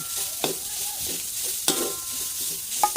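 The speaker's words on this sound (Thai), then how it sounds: "ต่อไปเราก็จะเอา นี่ครับ หมูลงไปคั่ว นี่คั่วให้สุกก่อนนะครับ" Minced pork stir-fried in a pan over a charcoal stove for Thai chili paste, a soft steady sizzle with a few sharp spatula scrapes and clinks against the pan, close up.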